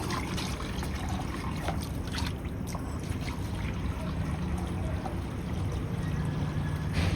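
Water is poured out in a steady splashing trickle, close and continuous with small uneven spatters, running throughout without talk.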